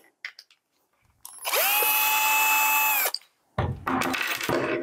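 A power screwdriver unscrews screws on a DeLonghi coffee machine brew unit, whirring loudly for about two seconds, followed by rattling, clattering handling noise up close.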